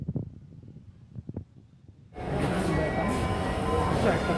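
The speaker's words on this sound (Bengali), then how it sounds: "আমাদের ট্রেন চলে আসছে" A metro train on the Dhaka Metro Rail arrives near Uttara, a loud broadband rumble and rush that surges in after a short quiet stretch with faint voices, then holds steady and close as it runs.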